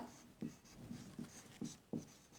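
Pencil scratching across paper as a word is written during a Bengali lesson for third-grade pupils: about five short, soft strokes in an uneven rhythm, close and quiet, with no talking.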